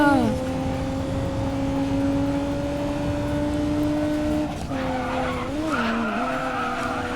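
A Lamborghini race car in the mobile game Racing Master drones at steady high revs with tire skids, its engine pitch dipping and wobbling near the end.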